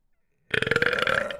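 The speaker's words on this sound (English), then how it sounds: "Ooh, weird burp." A loud, strange burp erupts after half a second of silence, a sustained croaking belch with a rapid rattling pulse lasting nearly a second, close and alone.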